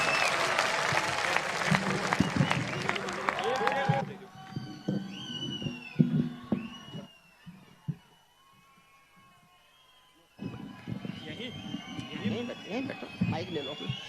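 An audience at a Hindi poetry recital breaks into applause for the poet. Loud clapping fills the opening seconds, fades to near silence, and then a second burst of applause returns near the end.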